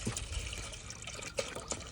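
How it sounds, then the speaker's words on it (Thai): Water is poured into a cooking pot, giving a soft, fairly faint splashing trickle that stays steady for about two seconds, with small drips and clinks coming through. "เทน้ำลงไป"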